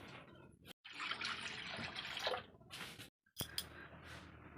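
Water poured into a kadai for boiling kakrol, a fairly quiet splashing pour broken by two brief silent pauses, with a trickle resuming at the end.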